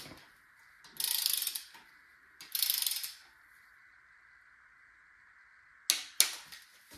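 A ratchet tightens a rocker arm bolt on a 5.3 engine in three separate bursts of quick metallic clicking, two close together and a shorter one later, with near-silence between them.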